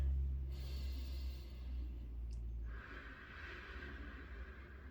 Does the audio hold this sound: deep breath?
yes